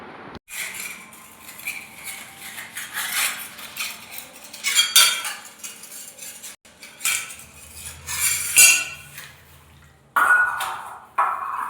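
Last night's dishes, pots and cutlery are washed by hand in a small bachelor kitchen, with irregular clinks, scrapes and clattering of metal utensils alongside splashing water, loud and close.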